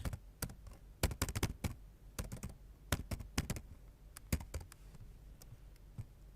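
Computer keyboard keys pressed while working in Excel: close, crisp clicks in irregular bursts and single taps, separated by brief quiet gaps.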